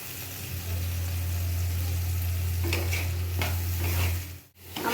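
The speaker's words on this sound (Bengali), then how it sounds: "মশলাগুলোকে দিয়ে একটু কষিয়ে নেব।" Spices and tomato frying in a pan with a steady, dense sizzle and occasional scraping stirs, holding loud throughout before a brief dip near the end.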